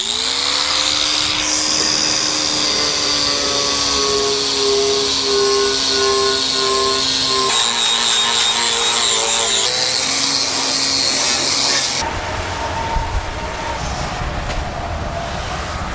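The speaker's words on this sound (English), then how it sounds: "So here's a stripping disc. These things work fantastic." A power tool fitted with a stripping disc strips a Land Rover Series chassis, its loud, high motor whine holding steady, then dropping and changing tone as the load shifts, ending in a rougher, lower grinding.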